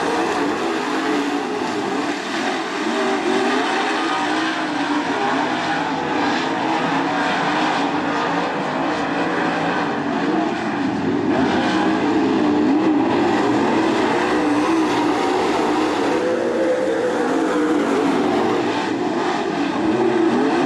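Late model race cars in a heat race at Attica Raceway Park roar continuously and loudly, with engines blending into one sustained, unbroken drone throughout.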